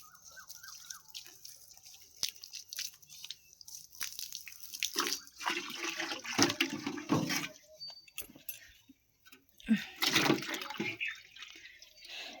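Water is splashed onto fresh brick masonry in bursts, wet pouring and trickling sounds rising and falling with drips and short pauses between, close and fairly faint.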